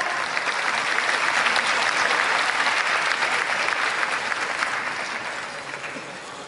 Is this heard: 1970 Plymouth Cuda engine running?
no